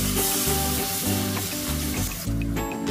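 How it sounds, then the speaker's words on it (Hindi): Blended onion paste with water hits hot oil and spices in a pan over a medium flame, giving a steady, loud, close sizzle with background music running underneath. "प्याज को दरमियानी आंच में मीडियम फ्लेम में इस तरीके से इसके साथ मिक्स करें ताकि प्याज का कच्चापन खत्म हो जाए"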